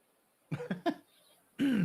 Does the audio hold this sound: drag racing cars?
no